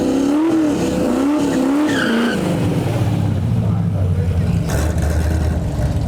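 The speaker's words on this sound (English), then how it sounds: "Here's this beautiful Firebird." A stick-shift Firebird launches down a drag strip, its tires squealing in wavering chirps before the engine roars away loudly and fades into a steady distant drone.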